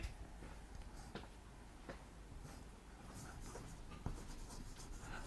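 Chalk or marker writing on a classroom board, quiet scratchy strokes in short bursts over a steady background hiss, faint and close, with no talk during the writing.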